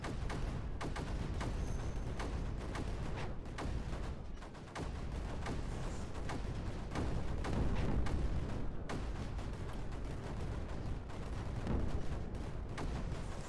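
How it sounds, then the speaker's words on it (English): Explosions in the video game Creeper World 4 keep going as a dense, continuous barrage of booms and blasts, like artillery fire, loud and steady throughout. "I still think the explosions are the nicest looking things in this game."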